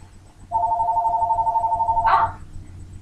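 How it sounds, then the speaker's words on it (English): A telephone ringing indoors: a steady electronic two-tone ring lasting about a second and a half, ending in a brief clatter as it is picked up. "Phone."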